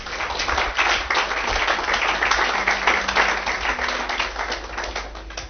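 Congregation applauding during a Sunday church service, with steady dense clapping and cheering from a large crowd throughout, loud and continuous, with a faint sustained tone underneath.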